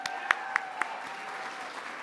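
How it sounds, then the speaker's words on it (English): An audience at a political speech event in Salt Lake City applauds for Peter, a steady wash of clapping with a few sharper accents near the start. "We owe you a great round of applause."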